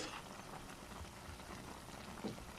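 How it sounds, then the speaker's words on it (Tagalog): A pot of pork adobo with long beans bubbles at a steady simmer, soft continuous burbling and popping, quiet and close with no voices. "kumukulo na ang ating niluluto at ating hahaluin"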